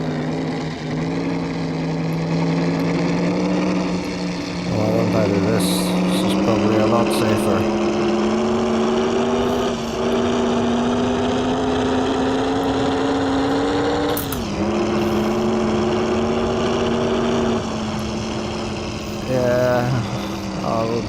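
Racing car engine in a VR driving game on PC, a loud steady drone whose pitch climbs slowly, drops sharply with gear shifts and climbs again, heard continuously beneath someone talking.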